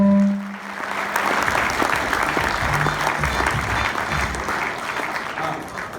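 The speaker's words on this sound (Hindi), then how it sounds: "ताली बजा दो यार" An audience in a testimonial session bursts into steady applause, a dense, even wash of many hands clapping at once, fairly loud and sustained without pause.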